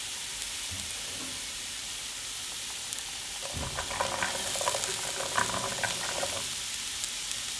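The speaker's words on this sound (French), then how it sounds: "dans lequel je fais revenir les oignons" Onions sauté in a pan, giving a steady close sizzle that grows busier and louder partway through as the onions are stirred.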